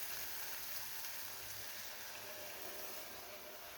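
Water poured into frying spiced masala for a chickpea curry, giving a steady, close hiss and sizzle that runs evenly throughout without talk.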